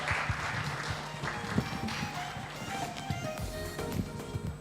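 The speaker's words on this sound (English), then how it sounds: "Okay, give me applause." A seminar audience on audio archive preservation claps loosely and unevenly, thin scattered applause heard from some distance amid room noise and faint murmuring.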